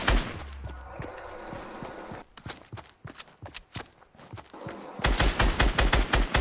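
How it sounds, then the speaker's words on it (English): Gunfire in the video game Fortnite, a dense volley of rapid loud shots that thins into scattered reports, then a heavy fast burst returns at the end, with no talking. "He's shooting you down."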